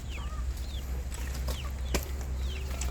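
Chickens cluck and chirp on a farm, with repeated short calls over a steady low background hum and occasional sharp clicks, moderately close but fairly quiet.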